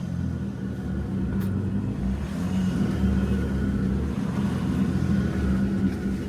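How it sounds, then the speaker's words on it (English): A Jeep Gladiator or Wrangler with rear locker engaged in 4 low rumbles through a mud hole, a steady, close engine drone with rising revs and no talk over it. "we're getting ready to drive through this mud hole"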